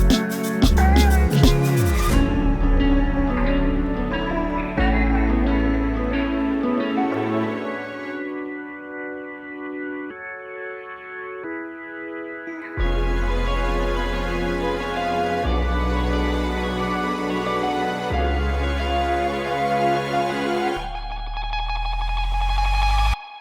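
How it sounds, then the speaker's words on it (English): A Tone Wheel Organ C3 preset from the Kontakt Vintage Organs library plays sustained, buzzy organ chords and bass notes within a song, changing every few seconds with a brief quieter passage in the middle. "I happen to use the Tone Wheel Organ C3 preset from the default folder within one of"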